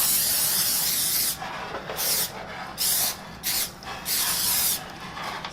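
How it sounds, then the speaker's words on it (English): Nonstick spray hisses onto a parchment-lined sheet pan in several bursts, a long opening spray followed by short repeated puffs, close and steady with no voices. "we'll spray it again"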